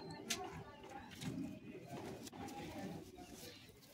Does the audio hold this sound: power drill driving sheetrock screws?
no